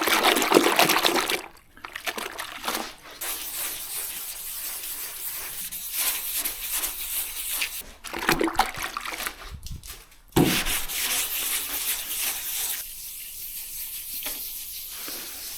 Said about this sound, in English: Next we're going to wet flat it with some 800 wet or dry on the block.